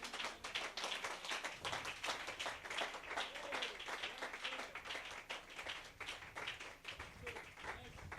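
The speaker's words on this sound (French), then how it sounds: "Donnez-lui une acclamation." A church congregation applauds, a dense, continuous burst of many hands clapping fast and evenly. It is fairly distant and steady throughout, with voices faintly mixed in.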